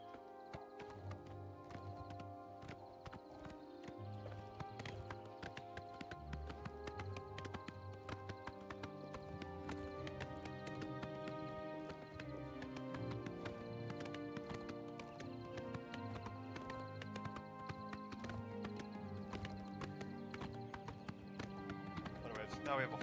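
Horse hooves clip-clop steadily in the video game Oblivion, a continuous galloping patter running under game music and occasional speech throughout.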